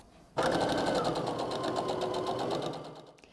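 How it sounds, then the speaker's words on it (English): Sewing machine running steadily as it stitches strips of quilt fabric together for a strip-pieced diamond quilt, a continuous close whir of about three seconds starting abruptly and easing off at the end. "I'm able to go ahead and sew this"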